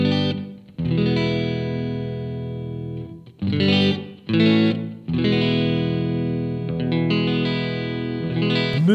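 Electric guitar through a VOX AmpPlug headphone amplifier set to its reverb effect: a string of overdriven chords and brief pauses, each ringing out with a roomy tail, close and steady, no talking.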